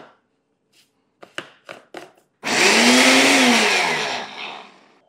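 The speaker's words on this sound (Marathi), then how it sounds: "चवळी, याला आपण मिक्सरमध्ये बारीक करून." A mixer grinder whirs loudly while grinding cowpeas, preceded by a few sharp knocks, then a steady high-pitched motor roar lasting a couple of seconds before it winds down.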